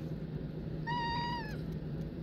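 A single cat meows once in a rented mountain cabin during a West Virginia snowboarding trip, a clear drawn-out harmonic mew rising out of a steady low room hum and fading after about half a second.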